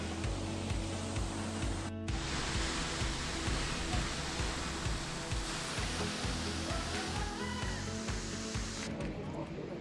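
Constant roar of rushing, falling water, loud and steady throughout, with a faint tonal hum beneath it.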